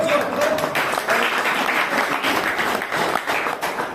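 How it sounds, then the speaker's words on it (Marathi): Loud audience applause at a farmers' onion-crop disease workshop, dense and sustained for the full stretch with a few voices mixed in. "अतिशय जोरदार टाळ्या दादासाठी"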